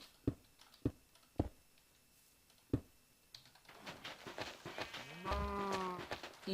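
Cows moo in Minecraft's FTB modpack, one drawn-out low moo rising near the end after a few sharp clicks like keyboard taps, with other faint game noises in between and no talk.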